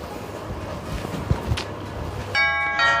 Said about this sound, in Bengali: এখন আবার কে কলিং বেল বাজাচ্ছে